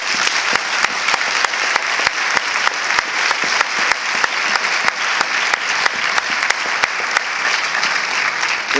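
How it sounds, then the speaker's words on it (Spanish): Steady, sustained applause from a crowd at a presentation, dense clapping throughout with a few sharper claps standing out, no voices. "Un aplauso para ella, por favor."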